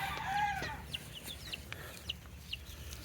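Chickens in a chicken tractor set on a grass patch cluck and give short squawks close by, with scattered high chirps over a soft outdoor background.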